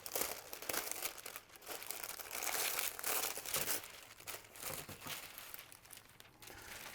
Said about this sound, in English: And then here is our wax paper covering.